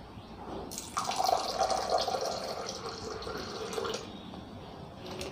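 Water poured over washed toor dal to soak it in a kitchen, a soft splashing pour rising after a second and trickling for a few seconds before thinning out.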